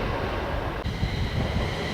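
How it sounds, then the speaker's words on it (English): A freight train passes nearby outdoors with a steady, heavy rumble and broad rushing noise that holds at a constant loudness, with no voices. "As a freight train passes through behind me."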